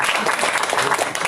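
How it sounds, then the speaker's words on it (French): A burst of audience applause at a press conference on police violence in Amiens, dense and close clapping filling the whole brief moment. "On peut l'applaudir quand même."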